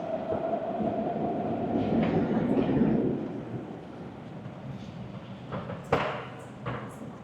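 A metro train in Athens rumbles in and slows with a low, steady roar that fades, followed by a few sharp clanks and clicks as it settles.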